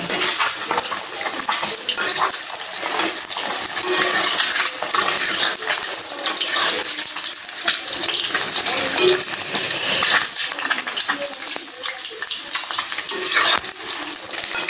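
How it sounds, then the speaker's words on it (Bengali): Country duck eggs fry lightly in a pan without browning, a bright crackling sizzle that runs unbroken for many seconds with occasional clinks of utensil against metal, close up and free of voices. "খুব বেশি লাল লাল করে ভাজবো না, হালকা একটু ভেজে নেব।"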